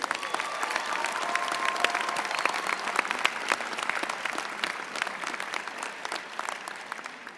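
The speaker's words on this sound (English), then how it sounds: "One more round of applause for our performers." Audience applause for performers at an Illinois State University College of Fine Arts spring commencement: dense, sustained clapping from a large crowd throughout, fairly even in loudness and tapering slightly at the end.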